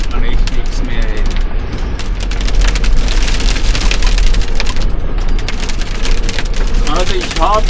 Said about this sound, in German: Also ist leichter Hagel noch.